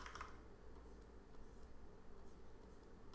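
Computer keyboard keys pressed in a quiet room during an inking session, giving soft scattered clicks at low volume over a steady background hum.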